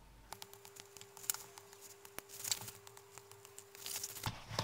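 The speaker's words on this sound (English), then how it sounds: "Lots and lots of little snips." Scissors make many small, quick snips through the fabric seam allowance of a sewn wine bottle bag, a close, quiet patter of crisp cuts in irregular succession, with no voice over them.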